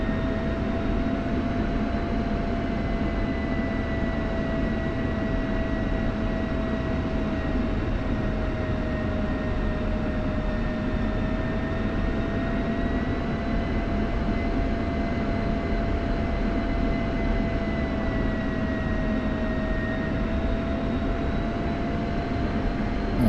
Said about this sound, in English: You don't want to exceed 40 knots in the Viper while taxiing.